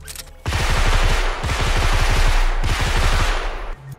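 Realistic rifle gunfire from an FPS template built in Dreams on PS4: three rapid automatic bursts of sharp, loud shots in quick succession, close and punchy, with no talking.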